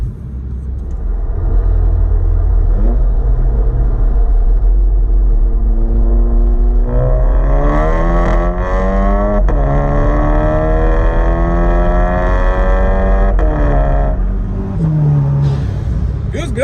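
A VW GTI engine with a new downpipe and JB4 tuner revs up through the gears, its tone climbing steadily with a deep rumble, loud and close, then briefly dropping and rising again.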